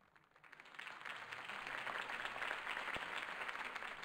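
A crowd applauds after a mayoral campaign speech in a Batman game, the clapping rising from quiet into a steady, distant ovation.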